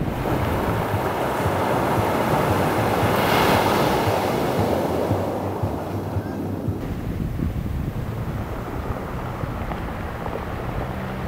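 Ocean waves wash onto a beach in a steady, loud roar with some wind noise, the surf swelling around the middle and easing slightly toward the end, with no talk.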